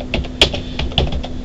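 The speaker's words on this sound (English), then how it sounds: "typing in" Close computer keyboard typing, a handful of quick clicky keystrokes with a couple of sharper taps, in a quiet room with no talking.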